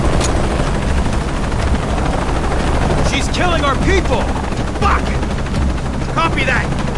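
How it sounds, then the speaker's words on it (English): Helicopter rotor drone and bursts of machine-gun fire from the video game Shadow of the Tomb Raider, a steady loud wash with crackling shots and brief raised voices or radio chatter over it. "Always hated helicopters."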